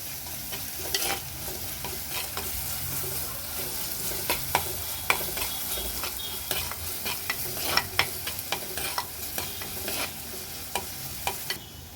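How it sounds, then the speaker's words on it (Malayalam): Curry leaves and other ingredients for a Kerala kilimeen fish curry sauté in a pan with a constant soft sizzle and frequent sharp scrapes and clacks of a spoon stirring against the pan. "ഇത് നന്നായിട്ടൊന്ന് വാട്ടിയെടുക്കണം ഇതിലേക്ക് നമ്മൾ കറിവേപ്പിലയും കൂടി ഇടുകയാണ്"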